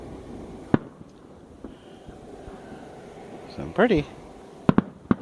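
Fireworks bursting outdoors at a 2018 display: a few sharp, distant pops and cracks spread over several seconds, with people chatting and insects buzzing in the background.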